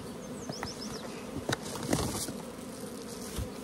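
Honey bees buzz around nucleus hives outdoors on a mild afternoon, a steady close hum with individual bees passing the microphone in brief, louder swells.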